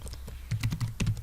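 Computer keyboard keys tapped in a few quick bursts while a command is entered on a Cisco network device in a CCNA lab, close and moderately loud with no talk.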